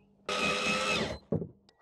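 A power drill bores into a plywood camper platform top, one loud, steady whirring burst of about a second, followed by a brief second spurt, close up with no talking.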